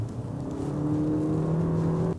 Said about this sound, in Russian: Слышно, как работает двигатель.